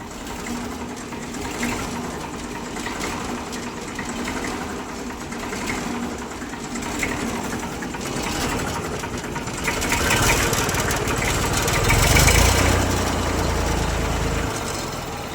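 Close, continuous diesel running of a 1995 Massey 1035 standard-model farm tractor, a steady rumbling drone that swells louder for a few seconds near the end, with no voices.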